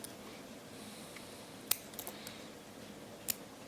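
Scissors snip small pieces off flower stems while making a flower ball ornament, giving a few sharp, close cuts spread across a quiet stretch.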